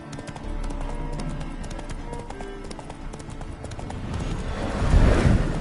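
Steady hoof clip-clops from a horse walking along in The Witcher video game, rhythmic and close, with a rise in low rumbling near the end.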